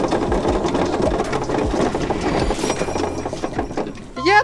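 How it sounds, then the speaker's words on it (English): A homemade mini go-kart engine revving in first gear, a busy buzzing drone with rapid rattling pulses, loud and close throughout, ending in a rising whine as the engine speeds up. "it was now time to test out the go-kart in first gear"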